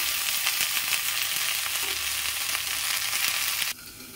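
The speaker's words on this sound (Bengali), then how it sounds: "গ্যাস কমিয়ে খুব আস্তে আস্তে ভাজতে হবে, এবং সবুজ যাতে থাকে ঢ্যাঁড়সগুলো সেটাও দেখতে হবে" Okra frying slowly in a pan over low gas, an even close sizzle with light stirring scrapes that cuts off sharply near the end, leaving quiet room tone.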